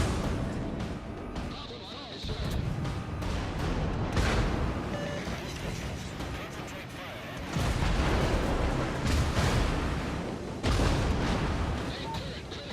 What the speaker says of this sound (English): Benson shooting at you from behind.